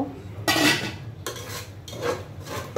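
Ground coriander and cumin spices being fried and stirred in a pan, with bursts of metal spatula scraping and clattering against the cookware separated by quieter pauses, a faint sizzle underneath.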